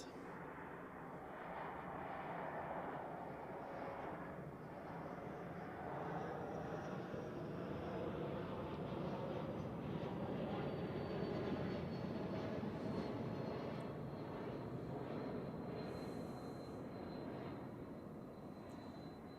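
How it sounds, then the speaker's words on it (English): A Swiss Airbus A220 arriving from Florence lands at Zurich Airport, its jet engines producing a long, steady roar with a high whine, moderately distant and sustained throughout. "An A220 of Swiss from Florence."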